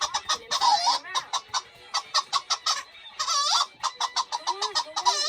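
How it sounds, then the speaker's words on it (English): Chickens clucking in a busy, rhythmic run of short calls, near and fairly loud, played as a sound effect with no talking. "And the chickens started talking and flying around."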